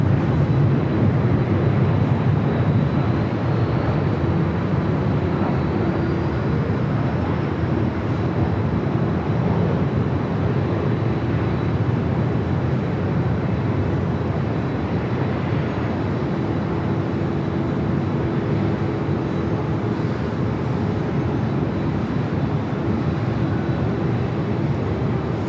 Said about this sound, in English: Air Tahiti Nui, the flight to Paris, also heading up for a north side takeoff.